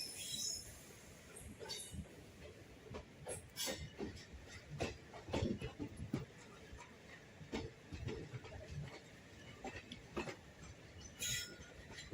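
A Bangalore–Ernakulam passenger train runs through hilly green forest toward Kerala, its wheels clattering in an uneven rhythm of faint clicks and thumps over the rails, with a steady rumble underneath.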